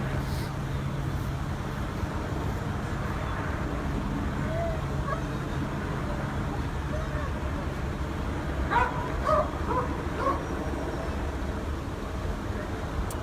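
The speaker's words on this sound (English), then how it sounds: "A number of canine officers." Police dogs bark during a police procession for a fallen officer, with a few scattered barks and yips at mid-distance over steady outdoor background noise.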